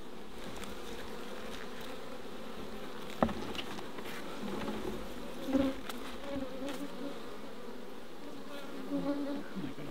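Honey bees hum steadily around an open hive during a Mallee honey inspection in the bush. The buzzing is continuous and close, with a few louder passes from individual bees.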